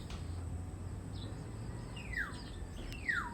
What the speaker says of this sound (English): this bird is called the black-naped oriole